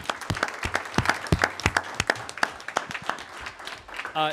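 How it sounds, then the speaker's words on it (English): An audience at a Board of Education meeting claps in a brief round of applause, sparse individual claps standing out distinctly at moderate volume, fading with a short voice at the end. "if you could give them a round of applause very quickly"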